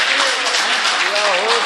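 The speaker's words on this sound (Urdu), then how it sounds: "تالیوں سے استقبال کی۔" An audience at a mushaira, an Urdu poetry gathering, breaks into dense, loud applause to welcome a poet, with voices talking and calling out over the clapping.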